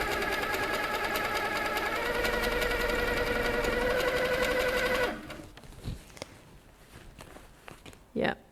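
Handi Quilter Sweet Sixteen quilting machine stitching while top thread tension is checked, a steady close motor whir with rapid needle chatter for about five seconds, then stopping, followed by quiet handling noises.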